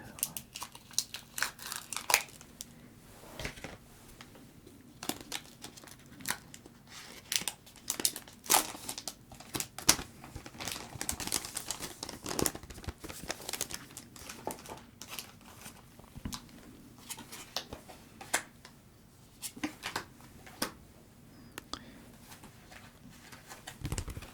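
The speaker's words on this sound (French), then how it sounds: "On va retirer les cartes de ce booster et retirer les cartes de ce booster." Cards are pulled from Pokemon Scarlet and Violet booster packs, with close, crisp crinkling and rustling of foil wrappers in irregular bursts, while pigeons coo softly in the background.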